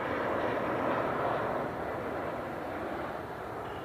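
United airliner rotating during takeoff at Cleveland Hopkins airport, a loud, broad engine roar heard from nearby that holds steady and then eases slightly.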